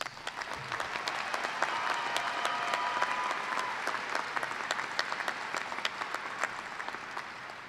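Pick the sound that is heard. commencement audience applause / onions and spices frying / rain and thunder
commencement audience applause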